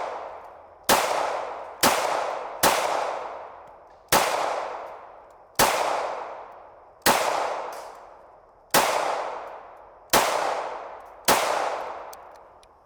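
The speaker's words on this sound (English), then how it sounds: "I've got 10 rounds of 380 loaded up out of the Smith & Wesson Bodyguard" Ten sharp gunshots from a Smith & Wesson Bodyguard 2.0 .380 pistol crack out one at a time at a steady pace, each loud and close with a ringing decay, and no talking.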